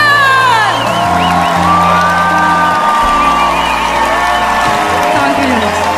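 A large concert crowd at a live pop show cheers and whoops loudly, with applause and shouts blending over music and a voice calling out.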